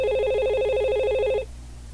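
A simulated VoIP telephone in Packet Tracer gives a rapid electronic trilling ring for about a second and a half, then stops abruptly, leaving low background hum.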